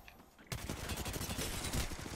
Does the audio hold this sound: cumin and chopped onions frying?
no